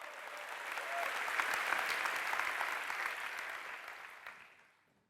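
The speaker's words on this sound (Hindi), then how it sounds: "सुनने से पहले तालियां बजा रहे हो" A hall audience at a spiritual discourse breaks into applause, a dense wash of clapping that swells, holds steady for a few seconds, then fades out to silence.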